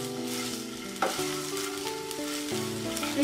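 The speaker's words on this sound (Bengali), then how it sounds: "এবারে পেঁয়াজ কুচিটা দিয়ে দিচ্ছি" Chopped onion frying in oil in a frying pan gives a steady, close sizzle, with brief spatula scrapes and clinks now and then and no voices.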